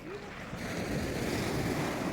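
Sea waves washing onto the shore at Dawlish Warren Beach, a continuous wind-blown surf roar that swells slightly and stays steady throughout.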